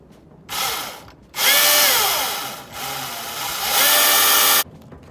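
A Milwaukee 16-inch battery chainsaw runs close by in bursts: a short whir, a brief pause, then a long steady whine that dips once and surges again before cutting off.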